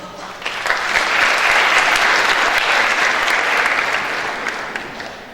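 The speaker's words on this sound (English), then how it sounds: "Please give her a round of applause" At an evening lecture event, a large audience breaks into loud, dense applause for the incoming co-host, swelling quickly, holding full, then gradually thinning out.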